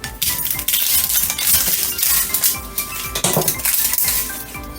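A knife slices the top and bottom off an onion on a board, giving a string of close, crisp chopping taps and clinks with short pauses between cuts.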